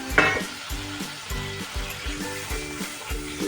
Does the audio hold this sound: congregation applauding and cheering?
no